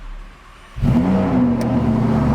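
A 2023 Lamborghini Huracan STO's V10 starts indoors after the button press: quiet hum, then a sudden loud bark into a rich, settling idle, with a brief high whine near the end.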